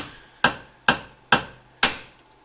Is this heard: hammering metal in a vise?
yes